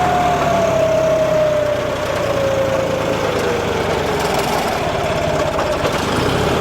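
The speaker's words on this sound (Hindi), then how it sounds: "अब देख लो ये ट्रैक्टर ही बंद होने को फिर रहा है" A tractor engine, run with four-wheel drive disengaged at about 1600 rpm, labours under load close by and nearly stalls. A steady heavy drone carries a slowly falling tone, with no talking.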